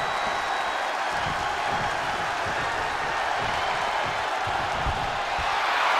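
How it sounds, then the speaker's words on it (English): A wrestling arena crowd roars in the WWE 2K22 video game, a loud, continuous wash of cheering and crowd noise that holds steady throughout with no clear speech. "The sound of this crowd is deafening"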